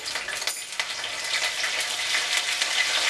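Curry leaves and an onion and red chili paste sizzle and fry steadily in a hot pan, a dense continuous crackle with a few louder spits near the start.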